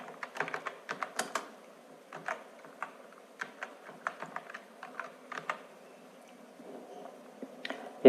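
Light, quick typing on a computer keyboard, clusters of crisp key taps with short pauses between bursts, close and fairly quiet, no talking.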